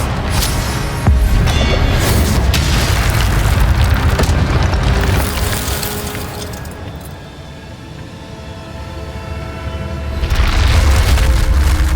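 The Incendio fire spell from the Hogwarts Legacy video game erupts in a loud, booming whoosh of flame. Heavy rumbling bursts run for several seconds, ease into a quieter lull, then flare up again near the end.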